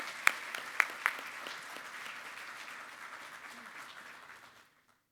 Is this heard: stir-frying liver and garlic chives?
no